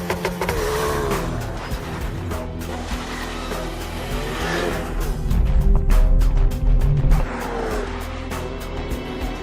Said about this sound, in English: Then lift the clutch and off you go.